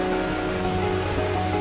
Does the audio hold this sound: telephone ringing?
no